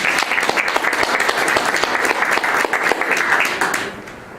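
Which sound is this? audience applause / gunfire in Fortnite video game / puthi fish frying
audience applause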